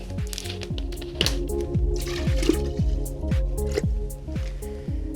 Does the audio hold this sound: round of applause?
no